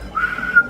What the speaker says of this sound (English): I can whistle inwards.